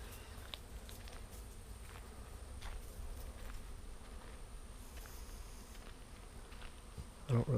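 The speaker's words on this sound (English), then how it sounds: "now they finally flew, and I can hear the swarm" Honey bee swarm in flight outdoors, a faint steady buzzing hum of many insects spread through the air, with a few brief nearby rustles and a louder thump at the very end.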